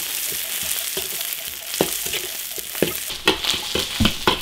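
Pickled mustard greens and sliced ginger sizzle in hot oil in an iron wok, a steady bright frying hiss broken by scraping stir strokes that grow more frequent toward the end.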